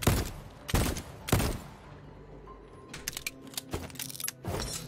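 Chunks of ice being shot in the space game Voidtrain: several sharp, bursty impacts in quick succession, with crackling debris and light clicks between them.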